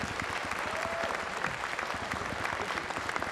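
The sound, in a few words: audience applause at a convention dinner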